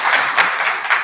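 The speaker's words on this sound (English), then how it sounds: "And another round of applause" Audience applause after a talk at a climate dynamics lecture event, a steady wash of clapping hands at close, even volume for a brief moment.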